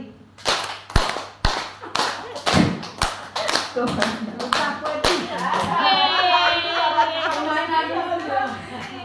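A group claps in a steady rhythmic pattern of sharp, evenly spaced hits, then the claps blur into a busier burst with voices joining in.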